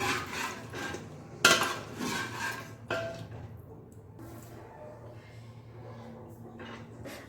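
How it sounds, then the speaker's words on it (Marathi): Cooked mutton is stirred into a curry in a pot, with a sharp metallic clack of a spoon against the pot, then soft scraping and rubbing strokes that fade quieter, close by, no talking. "आता आपण टाकतोय शिजवलेलं मटण हे छान मिक्स करून घेऊयात"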